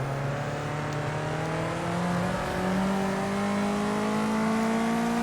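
A race car in Project Cars 2 accelerates hard out of a tight hairpin, engine revving up steadily with rising pitch, loud and continuous with no talk.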